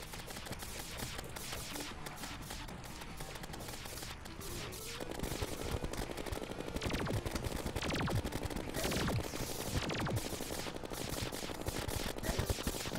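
Rapid gun firing in Terraria, a steady stream of sharp repeated shots that grows denser and louder midway and keeps going without a break, with no talk over it.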